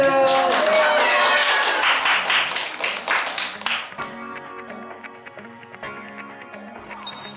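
A burst of applause from a group at a Jingwansa temple stay, loud at first and then thinning into scattered claps that trail off, with music underneath.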